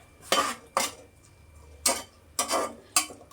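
A metal spoon clinks and scrapes against a pan during frying, five sharp, separate knocks spaced irregularly, close and fairly loud with no talk over them.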